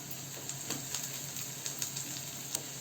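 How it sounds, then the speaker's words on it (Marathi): Chopped onion sizzles and fries steadily in a pan over a medium gas flame, a continuous close hiss with faint stirring clicks and scrapes scattered throughout. "तर मीडियम गॅसवर आपण हा कांदा चांगला परतून घेऊ."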